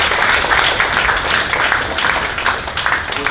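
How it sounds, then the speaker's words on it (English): A university alumni talk audience gives sustained, dense applause that fills the hall evenly with many hands clapping at once. "Give a big round of applause for brothers and sisters."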